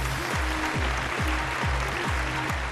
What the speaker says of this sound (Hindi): जोरदार तालियों से स्वागत कीजिए रिजवान सिद्दीकी का।